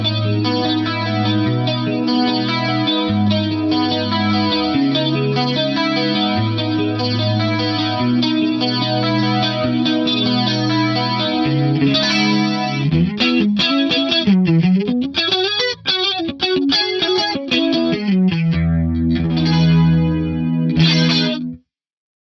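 An electric guitar runs through an Axe-Fx III Dimension 2 chorus set to a slow, subtle, wide shimmer, playing sustained chords and then bending and sliding lead notes, loud and alone without speech.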